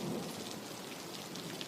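Heavy rain pours steadily over a thunderstorm's deep rumble, a dense continuous wash of drops with a stronger low thunder swell at the start and no voices.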